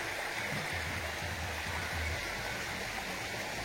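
Water in a forest stream near a waterfall rushes in a steady, continuous hiss, faint and unbroken throughout, with a low rumble briefly beneath it.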